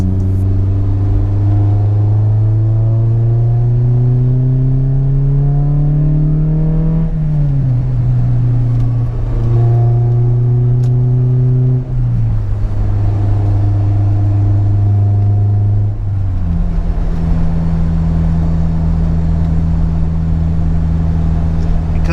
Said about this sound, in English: Because it is colder, I feel like the exhaust is just a little bit louder